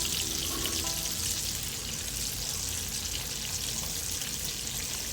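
Vegetables frying and being stirred in a hot pan as a side for garlic butter salmon, a steady bright sizzle with faint scraping, close and continuous without voices.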